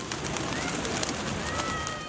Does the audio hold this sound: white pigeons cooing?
yes